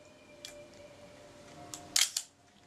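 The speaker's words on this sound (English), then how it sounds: "Hold down the end of film lever, wind the advance, the shutter opens all the way and" A Retina Reflex S camera body under reassembly fires its shutter after the advance is wound, giving a pair of sharp, close mechanical clicks near the end, with faint handling ticks before them.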